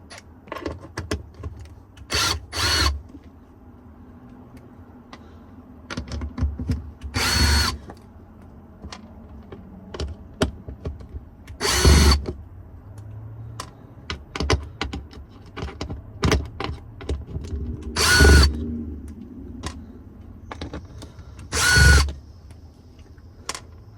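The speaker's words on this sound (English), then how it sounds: "you'll just have to take out these screws" A power drill backs Phillips head screws out of a fuel pump cover on a 1992–1996 Toyota Camry, Lexus ES300 or Avalon, giving five short separate whirring bursts spread across quiet workshop handling noises.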